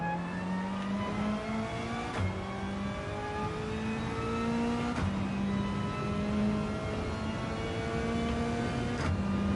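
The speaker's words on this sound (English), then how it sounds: "Are you revving it out?" A race car engine revving during a time trial, a sustained mid-pitched drone that climbs steadily in pitch and drops back at each gear change, loud and continuous with no talking.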